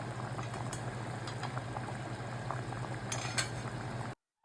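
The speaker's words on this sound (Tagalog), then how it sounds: "babalik tayo kapag kumukulo na to" A pot of mung beans simmers steadily on a stove for a home-cooked ginisang munggo, with a continuous bubbling boil and occasional faint clinks of utensils, with no talking.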